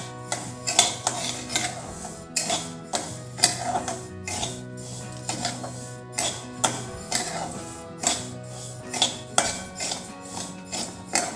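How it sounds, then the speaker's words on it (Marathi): Barnyard millet dry-roasts over a low gas flame in a thick-bottomed kadhai, stirred in steady rhythmic strokes that scrape and clink the metal about once a second, close and clear with no talking. "हे सर्व साहित्य भाजताना आपण चांगली जाड बुडाची कढई घ्यायची, म्हणजे हे जळणार नाही। सारखे हलवत राहायचे।"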